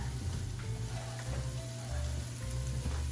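Chopped sage fries in a pot of fat for a ham, broccoli and potato soup, making a continuous, close crackling sizzle with a few faint pops, steady from start to finish.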